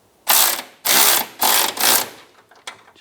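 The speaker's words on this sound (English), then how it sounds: "Using a 12mm socket and a 12mm wrench," A 12mm socket ratchet tightens the running board bracket bolts on a 2007-2013 Chevrolet Silverado 1500, making four loud, close bursts of rapid clicking followed by a few short faint clicks.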